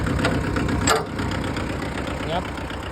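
A walking tractor fitted with a grass cutter runs its engine steadily while creeping forward slowly, a continuous low mechanical drone with someone talking over it.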